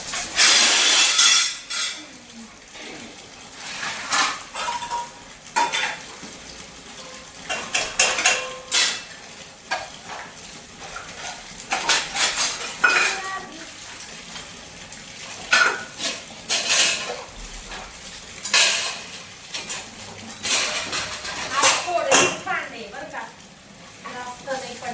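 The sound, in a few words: scrubbing dishes and utensils by hand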